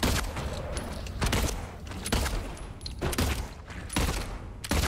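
Gunshots fired at a monster in the survival horror game Silent Hill 2, a series of loud sharp blasts spaced about a second apart with reverberant noise between them.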